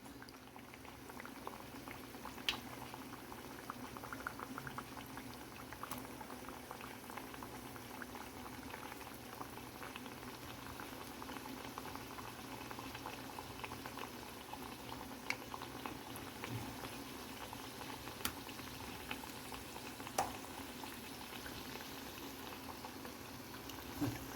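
Potato bajji fritters frying in hot oil, a dense continuous bubbling sizzle with scattered pops, steady and close, no talk over it.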